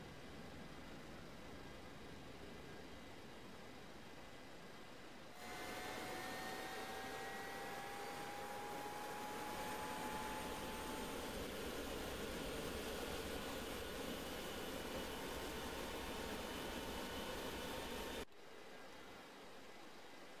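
Boeing 727 jet engine spooling up on start in the X-Plane 11 flight simulator, a steady broadband roar that jumps in loudness, holds with a rising whine, then drops back to a low hum.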